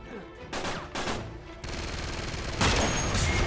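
Gunfire in Uncharted 3 multiplayer: bursts of rapid automatic shots come in quick, loud clusters, then build into a sustained volley of firing and impacts.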